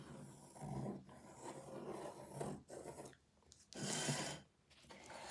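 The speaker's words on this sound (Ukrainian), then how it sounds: "Прикладаємо більшу форму, та яка 14 см, та обводимо олівцем." A pencil tracing around a cardboard shape, giving a close, quiet scratchy rasp that runs in long strokes with brief pauses between them.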